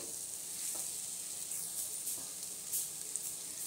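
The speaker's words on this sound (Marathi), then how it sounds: "हे मसाले टाकल्यानंतर पुन्हा एकदा आपल्याला असंच मिक्स करून घ्यायचं आहे" Spices for South Indian hotel-style sambar sizzling in hot oil while being stirred, a steady close hiss with faint scraping strokes, fairly quiet and continuous, no talking.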